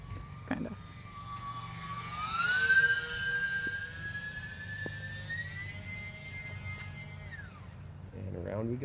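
A thin electric motor whine from an E-flite Aero Commander UMX RC airplane rises and glides in pitch as it passes overhead, with faint background voices and brief bumps.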